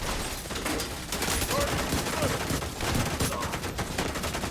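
Gunfire in The Division 2 with dense, continuous bursts of automatic weapons and shots, loud and sustained throughout, with a voice talking faintly underneath.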